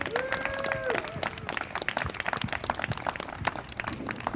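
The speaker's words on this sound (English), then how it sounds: "we can just take a moment to have a round of applause for everyone at home" Audience at a reunion celebration applauding with sparse, distinct claps and a little cheering; a voice briefly sounds at the start.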